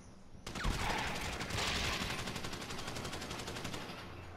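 Sustained automatic gunfire in GTA 5 Online crackles as a dense, rapid burst of shots lasting several seconds, with no pauses and no talk over it.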